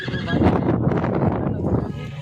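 A horse of a local Kutch breed whinnies loudly and close, a long shaky neigh with quavering pulses lasting about two seconds.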